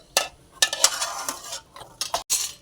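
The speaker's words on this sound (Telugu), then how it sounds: "సేమియా వేయించుకుంటున్నానండి" Semiya vermicelli roasting in a pan over a low flame, stirred with a metal spoon that gives quick clinks and scrapes in short bursts against a soft, steady sizzle, close by with no voices.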